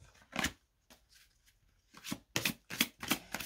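Angel love oracle cards being handled and picked from a deck, giving a few crisp, close papery flicks and slides, with a quiet gap between the early ones and a quick cluster of snaps toward the end.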